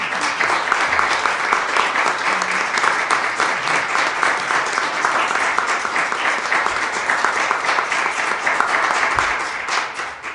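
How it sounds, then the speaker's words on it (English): A school board meeting audience applauds its school directors, steady dense clapping that holds at full strength for about ten seconds before easing off at the end. "I'd ask the audience to join me in a round of applause in recognition of our school directors."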